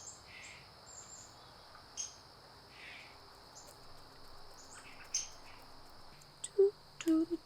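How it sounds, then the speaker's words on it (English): An agitated bird calling outdoors in the garden, with short sharp squawks and chirps that grow louder near the end, over a steady high insect buzz and faint background hum. "I think a bird is really upset that I'm outside right now because they are just going ham"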